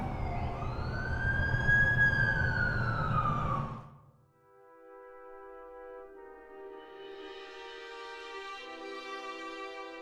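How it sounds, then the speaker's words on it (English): An ambulance siren in The Amazing Spider-Man 2 video game wails loudly, sweeping up and down for a few seconds, then cuts to a softer, steady electronic tone layered with engine hum. "That's the ambulance I called."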